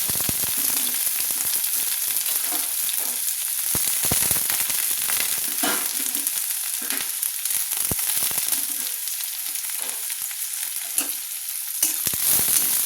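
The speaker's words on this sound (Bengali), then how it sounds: "পেঁয়াজগুলো আমি লাল লাল করে একটু ভেজে নেব।" Chopped onions fry with garlic in hot oil until reddish, giving a continuous close sizzle broken by sharp pops and crackles, with stirring and no voices.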